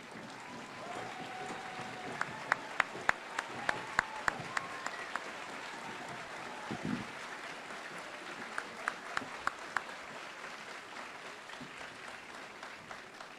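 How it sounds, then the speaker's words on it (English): A large outdoor crowd at an Army basic training graduation ceremony at Fort Jackson applauds veterans, with sustained, fairly distant clapping and a few sharp nearby claps standing out. "give an extremely well-deserved round of applause to you as well"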